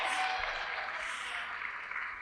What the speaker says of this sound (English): So give yourselves a round of applause for that.